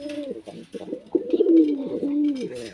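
Pigeons, including a peacock-feathered fancy pigeon, coo close by in a series of soft, throaty rolling calls, fairly loud, with brief pauses between phrases.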